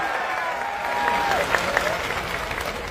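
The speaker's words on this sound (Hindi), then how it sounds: "मैं अपनी पूरी टीम की तरफ से आप सभी के लिए एक बार तालियां चाहता हूं" Audience applause at a gathering: steady, moderately loud clapping with a faint whistle-like tone gliding through and a couple of sharper claps standing out.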